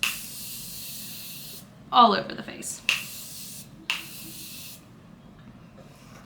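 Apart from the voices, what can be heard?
setting spray being sprayed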